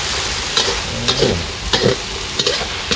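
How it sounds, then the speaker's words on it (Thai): Field rat heads fry in a pan for a spicy Thai stir-fry. The oil gives a loud, steady sizzle, broken every half second or so by the scrape and clack of stirring, with no talking. "หัวทอดให้มันสุกก่อน"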